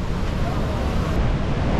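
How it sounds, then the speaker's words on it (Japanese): High waves at Bondi Beach in Sydney surge in a loud, continuous roar of surf mixed with heavy wind buffeting the microphone, with no clear break throughout. "今日めちゃくちゃね 波が高いんだと思うわ"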